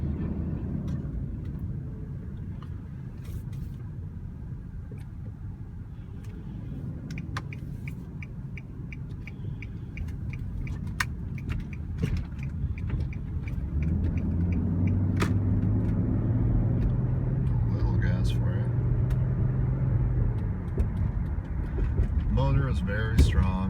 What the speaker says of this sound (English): I'll just kind drive it around on the road here so you get a sense